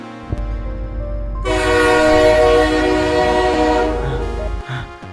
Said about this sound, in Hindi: दूर से ट्रेन की व्हिसल सुनाई दे रही थी।